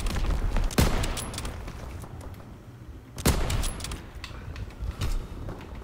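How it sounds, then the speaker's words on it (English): Gunfire in Call of Duty WWII rings out as two sharp, loud bursts a few seconds apart, each followed by scattered smaller shots and clatter over a rumbling game backdrop. "Oh, I can hear the shots."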